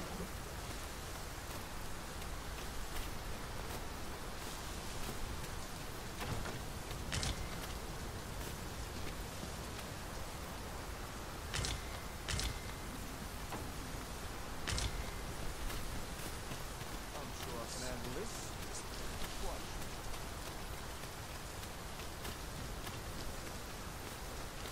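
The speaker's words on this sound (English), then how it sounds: "This downpour seems unlikely to abate." Steady heavy rain in the video game Dragon's Dogma 2 pours continuously, a dense hiss with occasional sharper drops, no voices.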